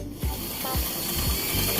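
A sewing machine back stitching fabric, a few stitches reversed then forward, gives a rapid mechanical ratcheting whir with rhythmic pulses, steady and close with no talking.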